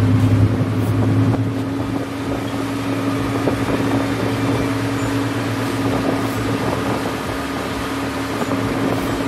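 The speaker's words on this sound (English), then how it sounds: "And there's my escort boat right here." A motorboat engine hums steadily at a low pitch under wind and water noise, holding a constant drone throughout.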